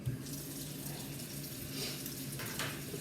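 Tap water runs steadily into a kitchen sink as Swiss chard is rinsed, a constant close splashing hiss with a few brief bursts of spatter and no speech.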